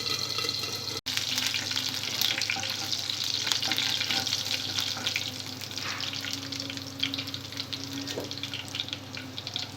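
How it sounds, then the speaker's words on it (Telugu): Curry leaves drop into hot oil with tempering seeds, garlic and dried red chillies for a bitter gourd fry, giving a steady, close sizzle with crackling bursts that carries on throughout, with no voices. "తాలింపు కొద్దిగా ఫ్రై అయిన తర్వాత ఇందులో కరివేపాకు వేసుకోవాలి."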